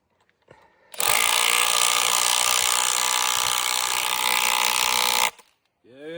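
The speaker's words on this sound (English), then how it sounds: "So you grab our rattle gun and our screw bolt and our hearing protection." Impact wrench (rattle gun) driving a screw bolt into a timber post stay, a loud, continuous rapid hammering burst lasting about four seconds, with brief voices just before and after.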